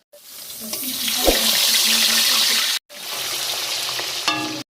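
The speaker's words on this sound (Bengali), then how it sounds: "এইভাবে বাকি মাছগুলো লাল লাল করে ভেজে নেবো।" Pieces of pond fish, rubbed with salt and turmeric, fry in hot oil with a loud, steady sizzle and crackle, broken by a brief pause and a few clinks near the end.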